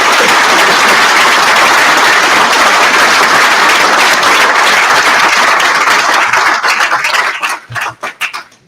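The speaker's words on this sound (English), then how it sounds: "I would like to give them a round of applause for their sacrifice." Loud, sustained applause from a summit audience honoring a family's sacrifice, dense clapping that holds steady before thinning into scattered final claps and fading out.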